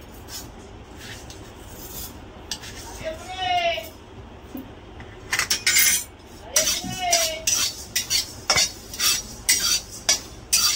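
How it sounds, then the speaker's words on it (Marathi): Coriander seeds and cumin dry-roasting in a pan, stirred so the seeds rattle and a utensil scrapes and clinks against the metal in bursts, with a voice talking over the stirring. "धणे आणि जिरे भाजायला टाकलं एकदम वास येतो"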